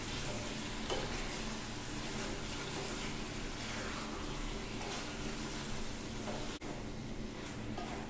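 Chicken curry with beans and carrots is stirred in a pan over a low flame, giving a steady, close hiss of gentle frying with soft scraping throughout and one brief break near the end.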